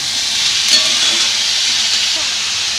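Vegetables and tomato frying on a high gas flame, a steady, loud close sizzle and hiss with light crackle and an occasional stirring scrape, continuous throughout.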